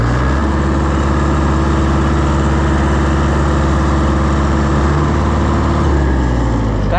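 Iseki T7000 tractor diesel engine running wide open in first gear, a loud, steady, close rumbling drone with a constant throb that dips slightly near the end.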